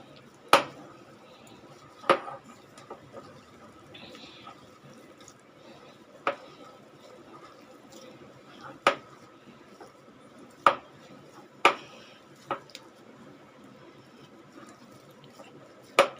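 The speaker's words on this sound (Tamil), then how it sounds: "இப்போ இதெல்லாம் நல்லா நம்ம மிக்ஸ் பண்ணிக்கலாம்" Grated potato with other ingredients being mixed in a bowl, marked by a series of sharp, separate clinks and taps of utensil against bowl spread over a quiet background, with no talk.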